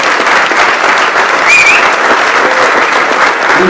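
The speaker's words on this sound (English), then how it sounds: "Give a round of applause for you." Audience applause at a BTCC Rockingham 2014 driver Q&A with Jason Plato and Sam Tordoff, a loud dense burst of crowd clapping held steady from start to end, close and continuous.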